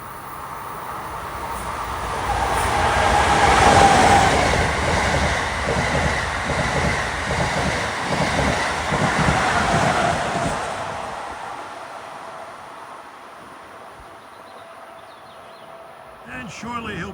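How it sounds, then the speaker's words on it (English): Amtrak Acela Express train on the Washington to Boston run passing through the Bridgeport to New Haven corridor, a loud sustained rushing roar that swells and rolls by for about ten seconds before fading away. "Acela Express."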